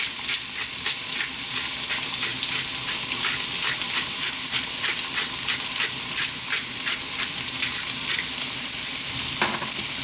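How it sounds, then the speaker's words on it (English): White sliced onion and chopped garlic fry in olive oil in a pan over lively heat, a steady loud sizzle that runs unbroken throughout with faint stirring scrapes, no talking. "So I've got some olive oil in there, white sliced onion, chopped garlic,"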